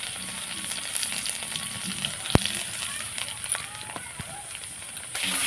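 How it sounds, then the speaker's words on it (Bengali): Ginger, salt, turmeric and chili powder frying in a pan over a fiercely burning stove, a steady crackling sizzle with occasional sharp clinks, under a person talking. "দিয়ে এখানে একটু ভেজে নেবো।"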